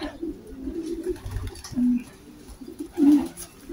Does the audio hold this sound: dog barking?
no